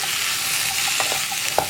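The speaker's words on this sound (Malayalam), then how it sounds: "ഉരുളക്കിഴങ്ങും കൂടി ചേർത്തിട്ട് നന്നായിട്ടൊന്ന് ഇളക്കി മിക്സ് ചെയ്യുക" Potatoes fry with masala spices in a hot pan for a Kerala-style potato masala, with a constant close sizzle and a few sharp scrapes and knocks as a spoon stirs them.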